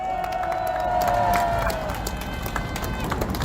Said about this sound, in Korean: 좋은 여러분께 큰 박수 한번 부탁드리겠습니다